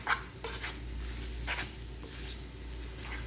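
Spicy chicken spaghetti being stirred and mixed in a pan over low heat, giving soft wet squishing and faint sizzle with scattered scraping strokes, steady and fairly quiet, with no talking.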